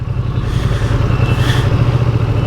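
A Ducati Panigale super sport motorcycle moves through hot Hyderabad city traffic, its engine giving a loud, continuous rumble with a slight mechanical clatter over a constant wash of road noise.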